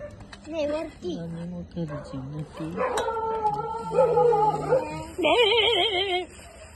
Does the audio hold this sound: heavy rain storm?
no